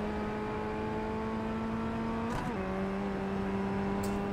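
A Formula Ford FF1600 racing car in iRacing holding full throttle at Zolder, a steady, loud engine drone with a brief pitch dip as it shifts, then continuing to pull.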